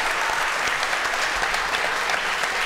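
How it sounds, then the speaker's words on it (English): A studio audience at a talk show claps in a steady, dense burst of applause, moderately loud and uninterrupted for a few seconds. "Let's hear it for Matt"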